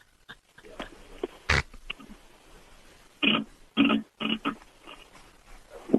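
A voice imitates farts, giving a drawn-out dry blat followed by several sputtering wet bursts, close and loud, separated by short pauses.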